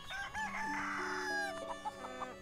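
A hen from an incubator in the farming video game Everdream Valley clucks and crows in a quick, bright run of calls, clear and fairly quiet, with no talking.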